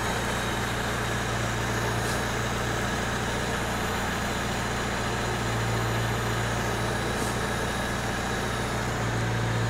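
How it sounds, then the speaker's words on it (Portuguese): A car engine idles steadily after a radiator coolant flush, with a constant low rumble and hum throughout, loud and close, with no talking. "Isso aí, motor funcionando sereninho, de boa."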